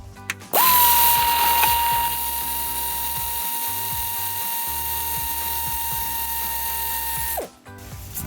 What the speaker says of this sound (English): We're going to remove the fender bolts.